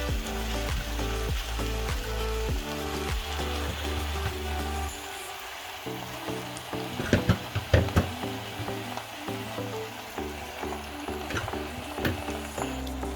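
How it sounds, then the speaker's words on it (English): Beef hitting a pan of frying onions, spices and bay leaves gives a steady broad sizzle with occasional crackles, partly buried under continuous background music. "Now we're going to add in our beef."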